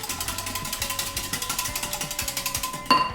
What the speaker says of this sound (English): we're gonna just start out with a tablespoon of sugar, and we're gonna whisk that